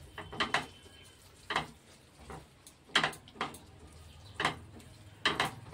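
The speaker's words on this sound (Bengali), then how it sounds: "নেড়ে দেব।" Eggplant kasundi is stirred in a pan with a utensil, giving soft rhythmic scrapes and light clinks against the metal about once a second over a faint background hiss.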